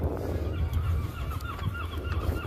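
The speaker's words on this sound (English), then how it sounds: "Seagulls and wind noise." Seagulls call faintly a few times near the sea in Middelburg, their cries partly buried under gusting wind noise.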